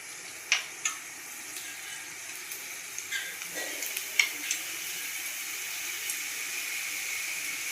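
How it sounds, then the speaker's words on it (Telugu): Telangana kajjikayalu, sweet stuffed dumplings, deep frying in hot oil in a kadai, giving a steady close sizzle with a few sharp pops and crackles early on. "కడాయి పెట్టుకొని అందులో డీప్ ఫ్రైకి సరిపడా ఆయిల్ వేసుకొని ఆయిల్ అయితే వేడెక్కనివ్వాలి"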